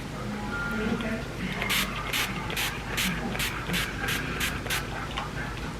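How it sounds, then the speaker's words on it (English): A NYX matte finish long-lasting setting spray is pumped about eight times in a quick, even rhythm of short hissy spritzes, close by and set against a steady background noise. "I'm gonna go in with my matte finish Finny Matte long lasting setting spray."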